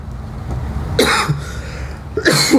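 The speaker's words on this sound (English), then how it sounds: "I'm coughing." Two sharp coughs, close and loud, about a second and a half apart, with faint background noise between them.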